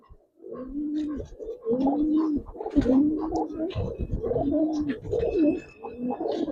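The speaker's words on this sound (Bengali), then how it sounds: "ইয়াং কবুতর, অনেকদিন পালতে পারবেন ইনশাআল্লাহ" Giribaz racer pigeons coo in a loft, a steady chorus of throaty, rolling coos that overlap continuously at close range, with faint chirps above.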